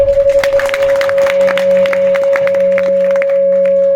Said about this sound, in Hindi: एक बार सब लोग फिर से ताली बजाओ।